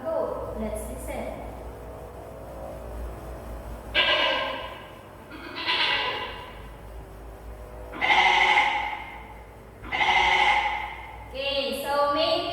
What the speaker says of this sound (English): What is the sound of a goat?